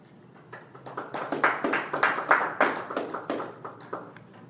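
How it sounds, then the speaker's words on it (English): An audience at a poetry reading claps in a burst of applause that builds quickly, holds steady and then tapers off, with distinct individual claps close by. "Losing my train of thought with the thundering applause."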